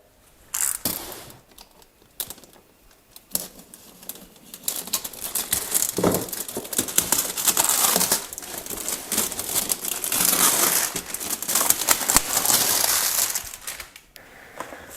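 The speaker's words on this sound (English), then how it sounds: "let's cut the foil and see what's inside" Foil booster packaging for Icons of the Realms miniatures being cut and pulled open, with bursts of crinkling and crumpling foil, sharp snips and rustles coming and going close up, with no talk.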